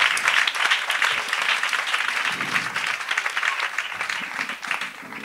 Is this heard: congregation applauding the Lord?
yes